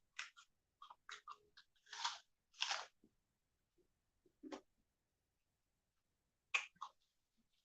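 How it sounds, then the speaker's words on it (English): A crisp apple is bitten and chewed up close, with sharp crunches in irregular bursts separated by quiet pauses, loudest in the first few seconds and returning near the end. "But I like my apple crunchy."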